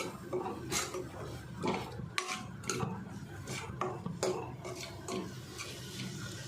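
A spoon stirs coarsely ground spices into bitter gourd in a metal pan, making repeated scraping clinks and soft rustles in an irregular rhythm. The sound is close and fairly quiet.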